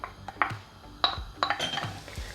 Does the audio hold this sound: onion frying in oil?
yes